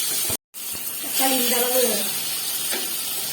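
Ingredients for beetroot kuzhambu sizzle steadily in a hot pan while being sautéed, a continuous frying hiss with a short break, and a voice speaks briefly over it.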